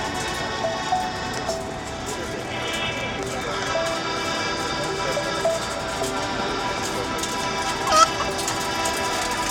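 Chickens held for kapparot slaughter in a back alley give scattered clucks and squawks, fairly faint under a dense, noisy background of crowd bustle and street sound, with one sharper cry near the end.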